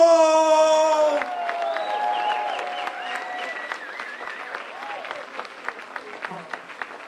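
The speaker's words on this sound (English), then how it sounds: "y'all give my brother from Ohio, representing Cleveland, a nice round of applause" An event audience breaks into sustained applause and scattered cheers and whoops for a performer from Cleveland, Ohio, rising after a sung note fades and continuing steadily, with sporadic louder claps and a voice briefly heard.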